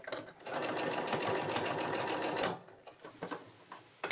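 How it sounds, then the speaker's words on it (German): A sewing machine stitches the open top edge of a fabric face mask, running in a steady fast whir for about two seconds, then stopping, followed by a few short handling noises close by. "Das offene obere Ende nähe ich genauso zusammen."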